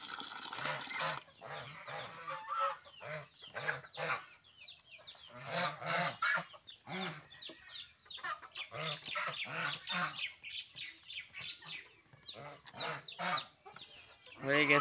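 Farmyard chickens cluck and squawk in repeated close bursts at feeding time, with ducks and geese from the same backyard flock calling in among them.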